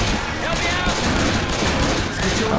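Rapid video game gunfire, a dense continuous volley of shots that stays loud and unbroken throughout.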